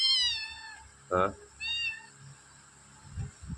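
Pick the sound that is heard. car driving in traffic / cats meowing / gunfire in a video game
cats meowing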